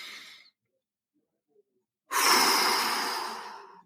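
A deep breath exhaled aloud as a long, breathy sigh, close and fairly loud, preceded by a brief fainter breath and a moment of silence.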